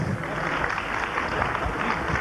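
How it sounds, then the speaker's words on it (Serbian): An audience at a young flute players' festival in Kraljevo gives a short, dense patter of applause that is muffled and steady, heard alone. "Jedan srdačan aplauz, tek da se probije led."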